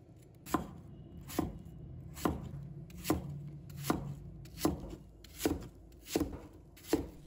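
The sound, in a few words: knife chopping an apple into small pieces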